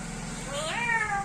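A pet parrot mimics a cat's meow: a single drawn-out meow that rises and then falls, close and clear over a low steady background hum, with no speech.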